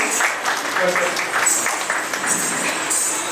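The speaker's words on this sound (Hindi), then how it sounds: "जोरदार तालियां दिया के लिए" Steady applause from a crowd, a continuous wash of clapping at moderate volume with no distinct individual claps standing out.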